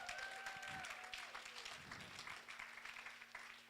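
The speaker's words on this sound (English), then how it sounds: "Can we give a round of applause for those guys?" An audience at a local real estate association meeting gives a round of applause, faint and somewhat distant, with scattered claps running steadily throughout.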